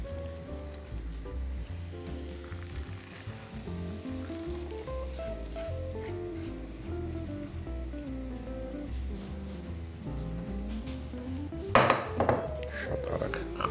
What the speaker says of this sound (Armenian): խառնում ենք, և լցնում տապակի մեջ